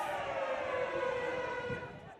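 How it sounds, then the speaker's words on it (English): A halftime siren at a rugby grand final between Harlequins and a university side blares as a long steady wailing tone, loud and sustained across the whole moment, with faint crowd or commentary beneath it. "As we hear the halftime siren go off"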